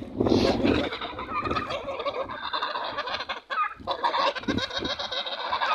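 Dense poultry chatter from muscovy ducks and geese on water fills the clip, a steady mix of clucking and honking calls from many birds, fairly close with no talk.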